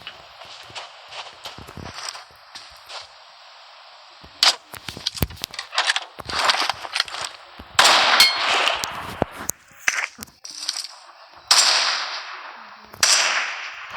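Crossbow shots and reloads in the mobile game PUBG Mobile, a run of sharp snapping clacks and metallic clicks at irregular intervals, close and fairly loud, with quieter mechanical rattles in between.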